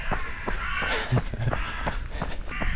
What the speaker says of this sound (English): I think that's the crows saying good morning.